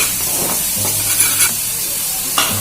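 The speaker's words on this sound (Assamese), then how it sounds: "একচুৱেলি পিঁয়াজখিনি সৰু সৰুকৈ দিলে মানে ধুনীয়াকৈ ভাজ হৈ যায়" Finely chopped onions frying in a pan for a local chicken curry, a constant close sizzle broken by a few brief stirring scrapes, with no talking.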